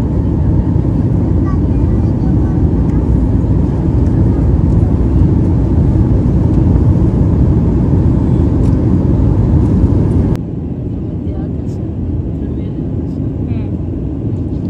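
Steady, loud airplane cabin roar during a flight, a dense unbroken hum that holds for about ten seconds, then drops to a quieter level, with a voice talking over it.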